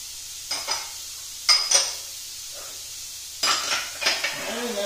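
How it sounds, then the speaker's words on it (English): Sliced sweet peppers sauté in a pan for coquilles Saint-Jacques à la provençale, with short bursts of sizzling and a utensil stirring and scraping against the pan in several separate strokes. "I just want it to saute it. And now I'm going to add my sliced sweet peppers in there."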